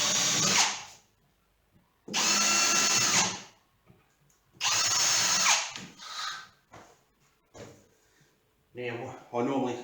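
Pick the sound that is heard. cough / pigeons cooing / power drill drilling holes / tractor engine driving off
power drill drilling holes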